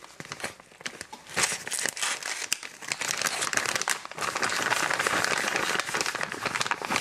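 Plastic bag of shredded mozzarella crinkling and rustling close by, a dense run of crackly crumples that grows steadier and louder toward the end, with no talk over it.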